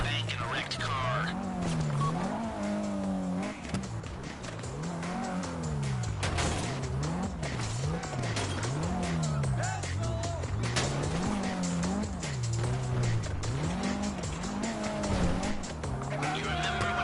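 Tires squeal and skid repeatedly as a car drives hard in the video game GTA 5, its engine note rising and falling throughout, with a voice speaking over the driving at times.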